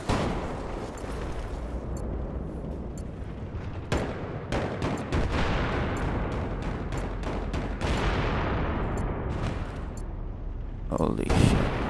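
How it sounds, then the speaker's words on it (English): Video game battle gunfire rattles almost without a break, dense repeated shots and bursts stacked over a constant loud roar, with a few sharper cracks standing out and a brief stronger blast near the end. "there's been some shooting up here"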